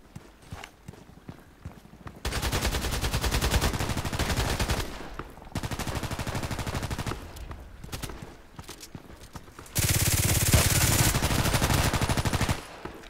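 Rapid gunfire bursts from a sniper-focused first-person shooter game, loud repeated volleys with short pauses between them and a sustained louder burst near the end, no talking.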